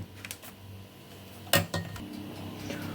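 Eggs and sugar are whisked in a bowl, with light metallic clinks and scraping taps scattered irregularly, a couple of sharper strikes standing out, fairly quiet and close with no talking.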